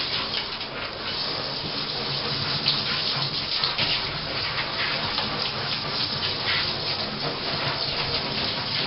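Running water pours steadily from a tap onto a big stuffed plush animal doll being wet for washing, a continuous close splashing gush with soft rubbing textures and no voices.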